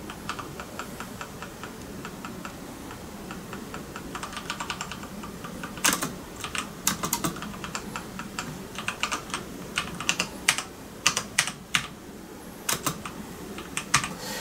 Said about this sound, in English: it's way easier to stay quiet with these brown switches